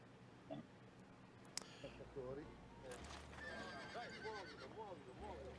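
A celebrity horse of famous stock neighs and whinnies several times, rising and falling calls up close over hoof clip-clops and people talking.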